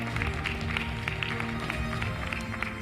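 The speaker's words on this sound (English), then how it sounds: "Let's give a huge round of applause one more time to Samina." An audience at a marketing conference applauds continuously in a large room, a dense, even wash of many hands clapping at moderate loudness without pause.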